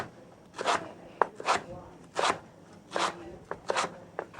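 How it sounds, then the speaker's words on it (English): A knife chops tough, fibrous lemongrass into chunks on a board, about eight crisp, close thuds falling in an uneven rhythm with short pauses between them. "What we'll be doing with the lemongrass is it's very tough and very fibrous, and we'll be cutting it"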